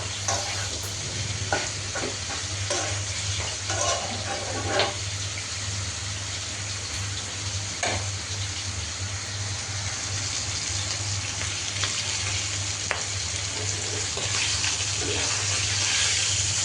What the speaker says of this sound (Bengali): আর এদিক দিয়ে মাছটাও ভাজা হচ্ছে। তো ভাজিটা এখন বারবার নেড়ে চেড়ে দিব।